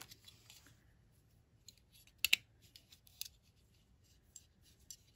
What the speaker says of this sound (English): I'm gonna cut this pipe cleaner in half.